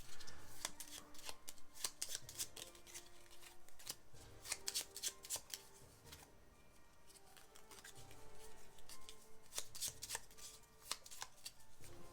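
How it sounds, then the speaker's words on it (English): Rapid riffle-and-bridge shuffling of a board game card deck, repeated in quick crisp bursts of papery flicks and snaps, close up with no talking. "we shuffle them up and draw one"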